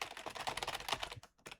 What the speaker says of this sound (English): It's the mechanical keyboard.